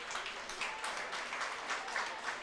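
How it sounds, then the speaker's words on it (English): Applause from the Tyrone substitutes at a Dublin v Tyrone Gaelic football championship match, a steady, fairly faint patter of clapping from a small group, off to one side, continuing throughout. "that round of applause, I have to tell you, off camera, is from the Tyrone substitutes"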